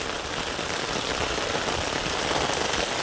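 Heavy rain pours steadily onto a road in Sangrur district, Punjab, a dense, even hiss that stays loud and continuous throughout with no voices.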